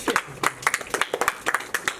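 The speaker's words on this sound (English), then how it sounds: "Let me clap." One person claps hands at a rap battle event, a quick run of about a dozen sharp, close claps in an uneven rhythm, with some voices in the background.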